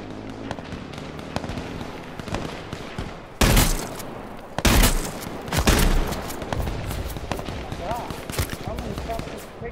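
Shotgun blasts in the battle royale game H1Z1, a few loud broadband bangs clustered mid-clip over background game noise and faint crackle, with speech in places.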